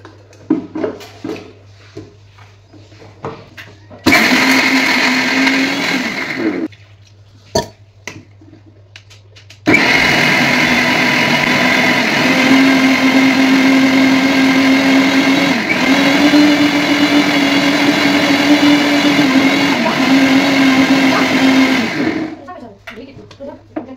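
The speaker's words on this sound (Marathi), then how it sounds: "ओलं खोबरं, भाजलेले शेंगदाणे, मिरची, आलं, लसूण, कोथिंबीर, मीठ घालून मिक्सरला बारीक केलं पाणी घालून" A kitchen mixer grinds fresh coconut, roasted peanuts, chilli, ginger, garlic, coriander and salt with water into chutney, running loud and whirring in two bursts, a short one and then a long steady one, with quieter handling noise between.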